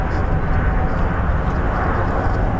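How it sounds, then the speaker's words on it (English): Airbus A340-500 VIP jet of the Sands Corporation moving at Heathrow Airport: a loud, steady broadband engine rumble and roar holds evenly throughout, with no breaks. "confirming A345 on the move"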